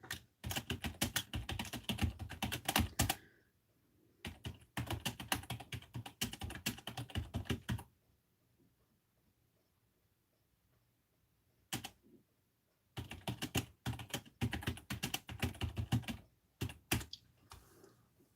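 Typing a chat message on a computer keyboard during a live stream, close rapid clattering key presses in bursts separated by quiet pauses, with no talking.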